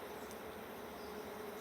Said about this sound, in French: Regardez toutes ces belles abeilles.